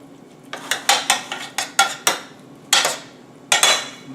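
Beef scraped and stirred around a metal pan or wok with a utensil, giving a series of sharp, clattering knocks in an uneven rhythm, loud and close.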